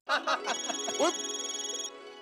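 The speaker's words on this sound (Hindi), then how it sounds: "रोशन सिंह सोडी का फोन है" A mobile phone rings in a Hindi comedy scene, a short electronic melody of repeating tones that starts after brief voices and holds steady for about a second and a half before cutting off.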